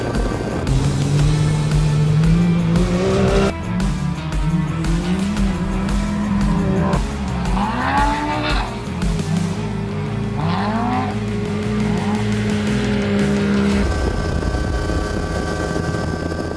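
Chris Blais's factory Can-Am race car drives past loud and close, its engine revving up and down in repeated surges with gear changes, a continuous roar without speech.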